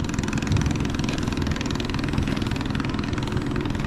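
A motorcycle engine idles with a steady, close, even rumble as the bike is ridden onto a boat among the Si Phan Don islands in Laos, with no voices.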